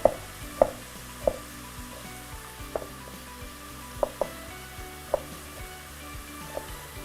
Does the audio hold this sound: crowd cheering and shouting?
no